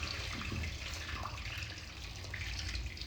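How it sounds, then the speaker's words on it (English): Warm water poured over fish sitting in a kitchen steamer used as a strainer, a steady close splashing trickle running without pause, with no talking over it. "So I'm going just to pass this warm water through the fish."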